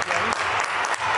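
Spectators clapping at a women's volleyball match between VakıfBank and Boğaziçi Kartalları, a dense continuous wash of hands with a voice faintly underneath.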